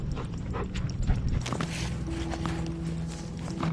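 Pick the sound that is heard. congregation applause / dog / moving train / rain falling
dog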